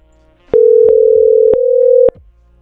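A steady telephone ringback tone on a VoIP call from a Windows host to a VMware machine through FreePBX, loud and continuous for about a second and a half, broken by sharp clicks.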